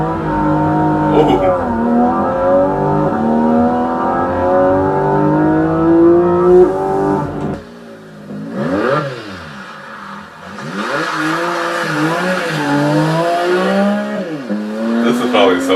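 Porsche 718 GT4 with a 4-liter naturally aspirated flat-six revving hard, rising and falling through the gears up close, with a brief quieter gap before the engine note climbs again.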